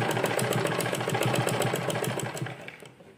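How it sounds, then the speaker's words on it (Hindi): A sewing machine stitching a sleeve runs in a fast, even mechanical chatter, close and loud, then slows and stops near the end. "दोबारा से इस पे सिलाई ले आएंगे।"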